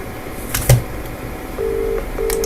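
A telephone call placed to a client rings out as two steady ringback tone pulses following a brief click, fairly close and with no one speaking.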